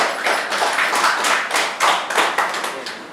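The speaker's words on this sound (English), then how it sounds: "I give the man a clap." A small group in a prospectors' class claps for a man, a brisk, close round of hand claps that runs the full few seconds and tapers off slightly at the end.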